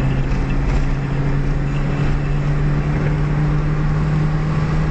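A car engine runs steadily during a clutch test after adjustment, a close, loud, continuous drone with a firm low hum and no voices.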